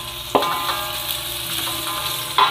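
Spices for a pumpkin and sweet galangal dish hitting hot oil in a pan, a loud continuous sizzle with a couple of sharp stirring clacks near the start and end.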